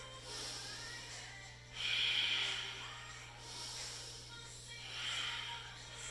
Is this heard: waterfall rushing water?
no